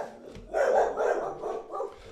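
Dogs bark and yip in a short, muffled burst at moderate distance, a few quick sounds running together with no voices over them.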